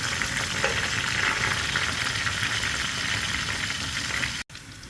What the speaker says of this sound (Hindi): यहाँ पे आप देख सकते हैं कि प्याज ब्राउन हो रहे हैं